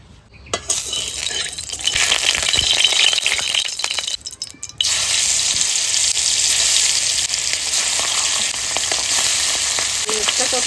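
Hilsa fish fry in hot oil in a wok with a loud, continuous sizzle. The sizzle breaks off briefly midway and then comes back strongly, with an occasional faint clink of a utensil.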